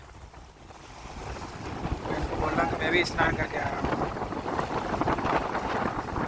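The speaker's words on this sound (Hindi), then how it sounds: "तेज़ तेज़ हवा चल रही है" Strong wind blows at a riverbank along the Narmada, buffeting the microphone in loud gusts that swell midway. Someone talks over the wind's steady roar.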